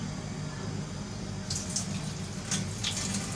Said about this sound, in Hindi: पानी निकाल दिया चावल का, ये बचाएंगे इसके अंदर।